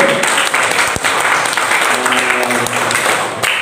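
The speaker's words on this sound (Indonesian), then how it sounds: "aplaus untuk kelompok terakhir" A school audience claps for the final group at a grade 12 class project presentation exam, a dense, loud burst of applause sustained throughout, with a voice briefly audible over it.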